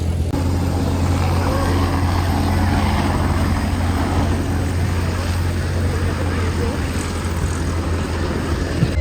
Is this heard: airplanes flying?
yes